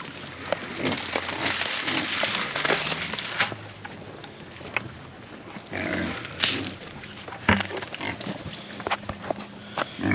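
Pigs on a homestead, including large commercial pigs and smaller lard pigs, grunting and snorting close by in irregular bursts over rustling and knocking noises, with no talking.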